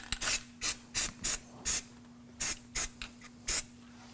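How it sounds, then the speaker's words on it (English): Never Seez anti-seize is sprayed onto the front wheel hub of a 2016-2020 Kia Sorento during a brake job, heard as nine short, sharp aerosol hisses in an uneven rhythm over a faint steady hum. "we want to make sure we spray this area with some Never Seez."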